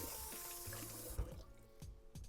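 Water runs from a kitchen tap while pizza dough is being made, a brief rushing hiss that cuts off partway, followed by soft splashes and clatter, with no talk.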